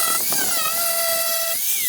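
An angle grinder used without a guard sands down a severely damaged plastic canoe, giving a loud, close, high-pitched whine whose tone dips and rises as the disc bites into the plastic.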